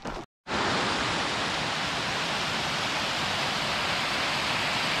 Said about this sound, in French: 1, 2, 3, 4, 5 cascades qui partent de là-haut